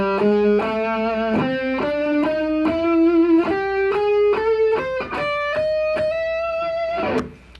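A distorted electric guitar plays an extended pentatonic scale, one sustained note after another climbing steadily upward, loud and alone, ending on a held high note that cuts off.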